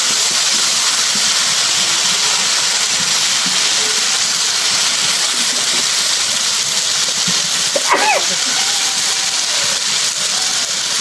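Fresh river fish hit a pan of sizzling spice paste and softened onions, a loud, steady hiss of frying that carries on throughout, close and unbroken, with a faint clatter near the end.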